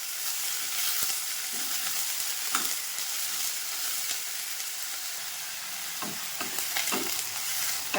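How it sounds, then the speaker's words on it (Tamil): Brinjal (eggplant) sautéing in a pan, a steady close sizzle with scattered clinks and scrapes of stirring throughout, no voices. "கத்திரிக்காய் போட்டு இதையும் வந்து நல்லா கொஞ்சம் வதக்கி விடுவோம்"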